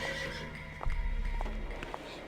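Horse neighing in the Alexandra Ledermann Le Haras de la Vallée video game, a loud whinny followed by clip-clop hoof sounds, with no talking in the clip.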